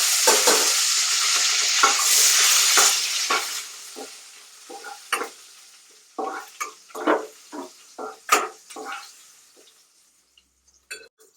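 Fennel seeds and curry leaves sizzle and crackle in hot oil for a spicy mussel stir-fry, a dense frying hiss at first that thins into scattered sharp pops and spatters as it dies down.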